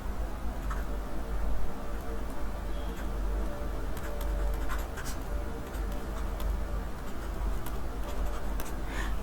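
Chalk or marker strokes on a classroom board during a lesson on the Indian Constitution, a steady run of scratchy ticks and scrapes over a low room hum, continuous for several seconds with no talk.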